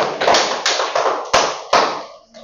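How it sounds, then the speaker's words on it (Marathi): Students in a classroom clapping hands together in a short burst of applause, several sharp claps rising above a dense patter of hands before it fades out. "टाळ्या वाजवा"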